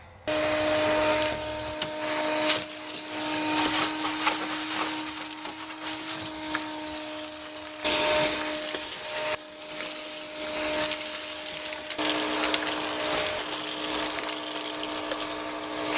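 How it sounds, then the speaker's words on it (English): A shop vacuum sucks loose rust flakes off the scraped floor boards of a classic G-body car in a garage, a steady loud whine with harmonic hum and gritty rattling debris, briefly dipping where the nozzle shifts, with no talking. "let me plug in the vacuum and start sucking this rust up"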